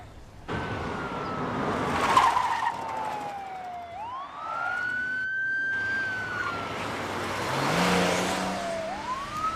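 A car speeding in a police pursuit, its engine roaring and rising in pitch as it accelerates, while a wailing police siren sweeps up and down close by, loud and continuous throughout, no talk.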